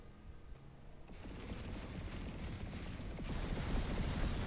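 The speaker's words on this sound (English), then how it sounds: "I'm going to use my weapon, the Polaris, without the sight, and take a few shots at the wall" A VX29 Polaris gun in the video game Planetside 2 hip-firing at a wall, a dense rapid burst of automatic shots that starts softer and grows into a continuous rattling volley.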